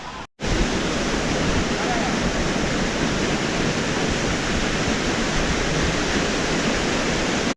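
Massila Falls in the Kolli Hills roars steadily and loudly, a dense, unbroken rush of falling water that fills the whole scene after a brief cut at the start.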